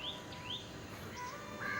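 A myna bird in a cage calls with several short, bright chirps and whistles, moderately near and over a steady background hiss with no talk.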